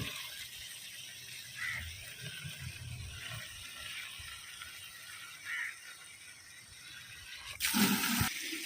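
Cow-dung water is splashed and sprinkled onto a village courtyard in a few scattered bursts, ending in a louder splashing pour near the end.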